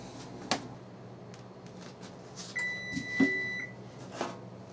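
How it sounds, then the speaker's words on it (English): A kitchen oven beeps after preheating to 420 degrees, one short electronic tone and a few faint tonal blips among quiet clicks and knocks of a home kitchen. "Okay, our oven just went off."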